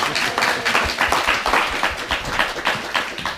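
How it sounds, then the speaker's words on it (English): An audience applauds a presenter's colleague, giving a steady, dense patter of clapping throughout, moderately loud and fairly close. "Give him a round of applause, please."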